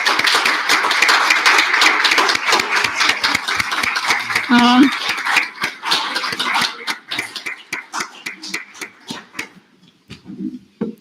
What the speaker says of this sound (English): I'll give you guys a big round of applause